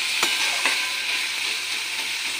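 Steady, close sizzle of a frying spice tempering as turmeric is stirred in for chickpea dal, a bright continuous hiss with a couple of brief stirring scrapes and no talk.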